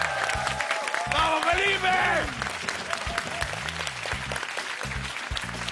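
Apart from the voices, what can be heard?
studio audience applause for the orange team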